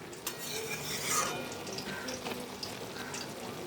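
A spoon stirs leafy kolmi greens cooking in a pan, with soft wet scraping and watery sizzling close by, steady for a few seconds with no talk.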